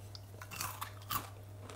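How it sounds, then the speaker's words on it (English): Crunchy garlic bread croutons bitten and chewed up close, giving a short run of sharp, crisp crunches with quiet pauses between, no talking. "totally crunchy garlic bread"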